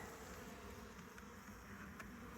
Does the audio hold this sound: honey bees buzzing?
yes